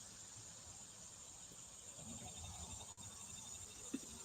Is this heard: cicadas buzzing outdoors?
yes